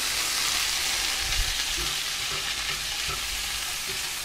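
Sea bream sizzles steadily in a frying pan over medium-low heat as a parsley and mint mixture is stirred in, a continuous close crackle with soft stirring knocks.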